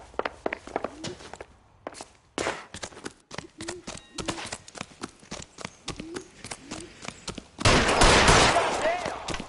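Sharp gunshots crack out in the video game L.A. Noire, scattered single reports and clatter through a tense scene, ending in a louder, dense burst of fire.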